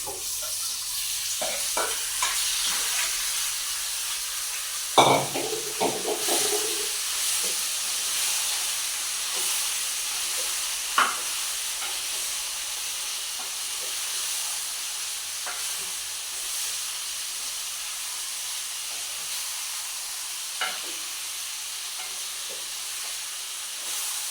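Marinated chicken sautéing in a pan, a steady soft sizzle and hiss throughout, broken by a few sharp clatters of stirring, the loudest near the five-second mark.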